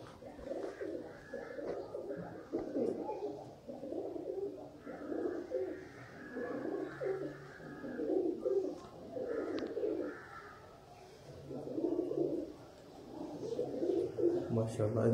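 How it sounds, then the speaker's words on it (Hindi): Teddy pigeons cooing close by in repeated soft throaty phrases, several birds overlapping in waves with short pauses, fairly quiet with light background noise. "ये अली वाले ते टैडी दा क्रॉस है, एक कबूतर है।"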